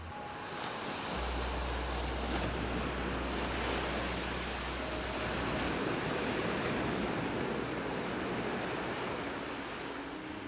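Ocean waves roar onto a shallow coral reef in a steady, dense rush of surf, with wind buffeting the microphone and a low rumble underneath.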